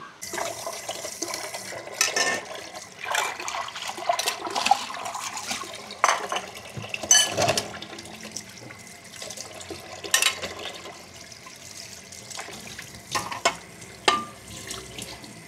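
Tap water running into a kitchen sink while used dishes are washed, a steady close splashing stream with intermittent clinks and sloshes, no talking.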